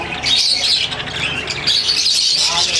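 A breeding pair of TCB birds with four chicks in a cage at the Multan bird market gives busy, continuous high chirps and squawks, close and loud, against crowd murmur.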